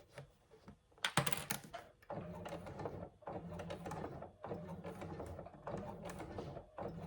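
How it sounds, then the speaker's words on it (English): Sewing machine slowly top stitching a faux leather hobo bag, a steady mechanical whir broken into short runs with brief pauses and clicks between stitches, close and fairly quiet. "You can see I'm top stitching really slowly here to try and get it as neat as possible"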